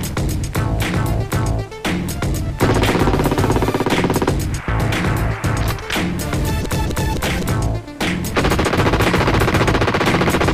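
A C6 general purpose machine gun fires in loud, rapid bursts of dense gunshots, several strings broken by short pauses, close and filling the whole clip.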